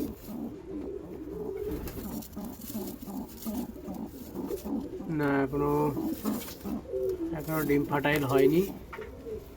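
Pigeons in a breeding loft with eggs and squabs, coo in repeated rumbling bursts close by, rising and falling in waves while someone talks over them.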